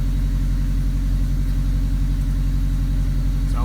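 A Subaru EA82T turbo flat-four with Megasquirt MS3x engine management idles steadily while warming up on a cold-start curve, a constant close low rumble with no talking.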